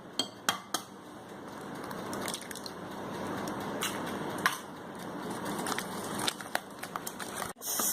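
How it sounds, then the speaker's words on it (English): Butter and sugar beaten by hand with a whisk in a bowl, a continuous scraping, crackling rasp with scattered metallic clinks against the bowl, fairly quiet and close. "You can do it with hands, with this hand whisker."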